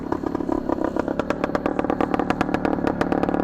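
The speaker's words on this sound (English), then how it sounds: "Listen to the exhaust on this thing." A 1972 Yamaha RT2 360cc two-stroke enduro motorcycle exhaust crackles and pops in a steady rapid rhythm, loud and close, with no talking over it.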